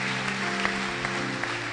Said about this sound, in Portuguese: Put the hand together for Jesus.